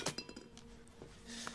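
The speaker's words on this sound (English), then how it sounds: "he can hear them when they step on glass" Glass crunching underfoot in the 1996 film Mission: Impossible, a few short sharp clinks and crackles, quiet and close, with no talk.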